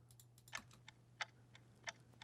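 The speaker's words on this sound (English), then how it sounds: "And then I put a ticking sound," A ticking sound effect from a sample pack, used in a music production remake of a song: sparse, crisp clicks at an uneven pace over a steady low hum, fairly quiet with no voice.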